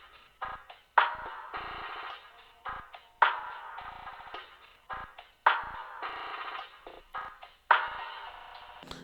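Drum loops for a beat, EQ'd to cut the lows and highs and chopped by Gross Beat's chaos preset into stuttering, gated bursts, with a thin, midrange tone and a strong hit recurring every couple of seconds.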